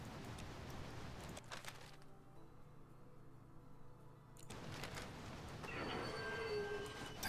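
A train in a snowy train-driving game rolls along the rails with a steady low rumble and rattling wheel noise, easing into a quieter stretch, then picking back up with a high squeal toward the end.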